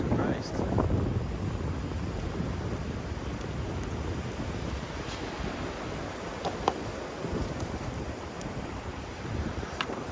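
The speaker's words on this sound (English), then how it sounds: "The wind is whipping it up." Strong wind on a beach buffets the microphone in a steady, loud roar across the whole stretch, with faint scattered clicks on top.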